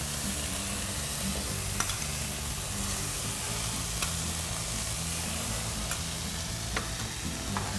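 Tomato sauce sizzles in a hot pan while being stirred, a steady close frying hiss with faint scraping and occasional soft clicks from the utensil.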